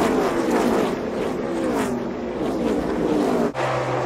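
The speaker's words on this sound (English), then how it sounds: "Storm and Cruz Ramirez lead the field as we are now underway for the start of the Florida 500." Race cars rev and roar at the start of the Florida 500 stock car race, with a loud continuous engine drone and rising and falling pitch throughout.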